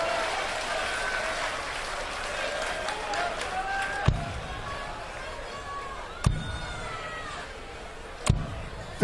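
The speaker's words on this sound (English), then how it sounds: "you can hear the crowd" A darts crowd at the 2016 BDO World Darts Championship quarter final cheers and applauds, a broad roar under a commentator's voice, with sharp bangs recurring every couple of seconds.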